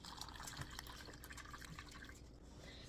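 Cold water splashes and spills across a kitchen counter during pouring, a close, steady watery trickle and patter without talk.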